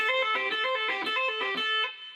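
Bright electric guitar chops on the first and second strings, a quick rhythmic series of short plucked stabs with a slight effects shimmer, played alone and up close.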